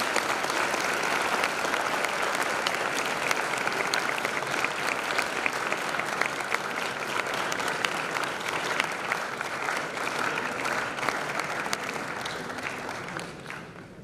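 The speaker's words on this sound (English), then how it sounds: "you need to give a big round of applause to your parents" Sustained applause from a school prize-giving and farewell assembly audience honouring parents, grandparents and family, steady and dense throughout before tapering slightly at the end.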